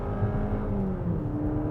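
A naturally aspirated petrol engine in a 2021 Jeep Compass small SUV accelerates, with a steady mid-level engine drone and a gently rising tone heard from inside the cabin.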